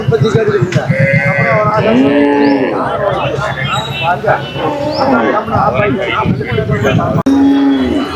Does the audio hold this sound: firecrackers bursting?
no